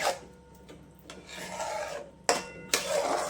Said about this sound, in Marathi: अजून एक 2-3 मिनिटं असेच ढवळत राहायचे आपल्याला